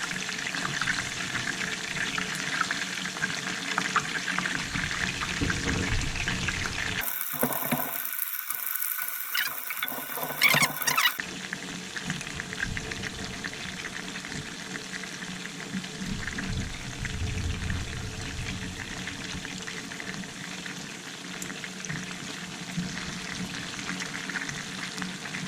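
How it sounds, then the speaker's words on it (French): Pieces of octopus fry in a pan for an octopus salad, a steady close sizzling hiss that runs throughout, briefly interrupted by a sharper, brighter sputter. "Pour les laisser frire de tous les côtés."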